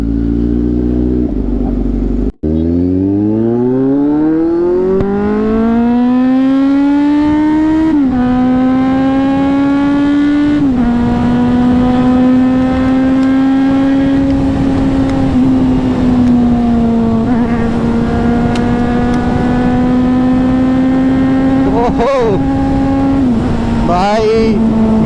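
A Kawasaki Z900 motorcycle revs loud and close while being ridden on a foggy road. The engine pitch climbs through the gears, then holds at a steady drone with brief shifts and dips.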